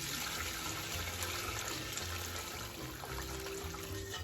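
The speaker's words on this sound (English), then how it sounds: "I'm gonna take my turkey broth and I'm gonna use some of it" Turkey broth pours into a pot with a faint, steady liquid trickle and splash that continues throughout.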